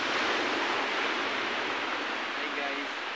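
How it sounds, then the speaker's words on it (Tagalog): Big waves surging at San Roque Lingig beach, a loud, steady broadband roar of surf filling the whole moment without a break. "Tingnan nyo sa paligid guys, ang laki-laki ng alon."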